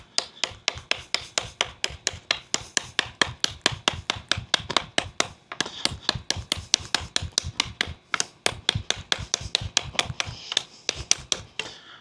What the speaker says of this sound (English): let's say you had to come in and do some light chopping